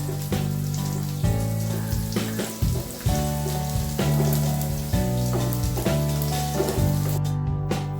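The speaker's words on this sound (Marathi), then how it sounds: "हे पण छान तेलामध्ये भाजायचे" Coriander, ginger and garlic fry in hot oil for sukke chicken masala, giving a steady, close sizzle that runs under tonal background music.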